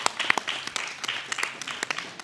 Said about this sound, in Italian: Un applauso per Sebastiano.